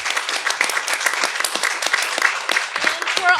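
An audience applauds panelists at the close of a media literacy event, a close, full roomful of clapping with faint voices mixed in underneath.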